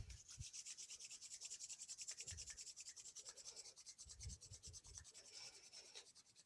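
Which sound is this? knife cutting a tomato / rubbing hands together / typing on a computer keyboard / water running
rubbing hands together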